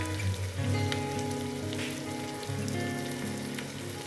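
Spices for masale bhat fry in hot oil with a steady, close, rain-like sizzle, alongside a faint tonal hum in the background, with no talking.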